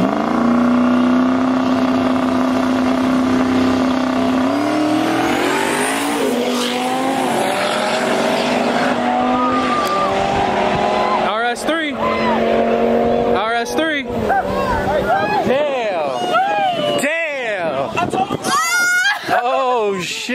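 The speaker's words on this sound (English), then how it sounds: "RS3 versus Mustang." An Audi RS3 and a big-turbo Mustang GT drag race, engines droning loud and steady, then revving hard and rising in pitch through quick gear changes with bursts of tire noise, while people shout over it.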